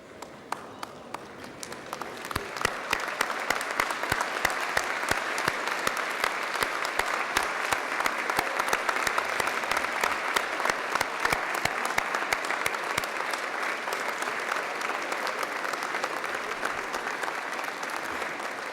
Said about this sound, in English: give them a huge round of applause, because they will be constantly applauding you tonight